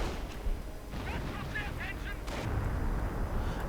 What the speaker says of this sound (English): Artillery going in here against the supposed position of the bunker, hitting a pack